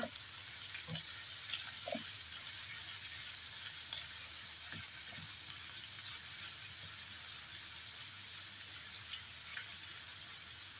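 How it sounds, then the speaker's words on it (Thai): Minced pork stir-fried in a little oil for pad kaphrao gives a steady, quiet sizzling hiss, with a few scattered clicks of a spatula against the pan. "炒到佢散開為止嘅，炒到佢熟啦， ผัดให้มันสุกนะคะ"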